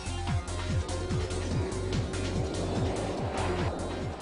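Motorcycle ridden in a long wheelie on tarmac, engine climbing through the gears in repeated rising sweeps with brief drops at each shift, loud and steady throughout over wind noise.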